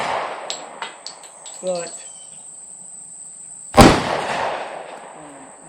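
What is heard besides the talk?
Llama 1911 clone pistol gunshots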